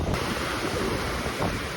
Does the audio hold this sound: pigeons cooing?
no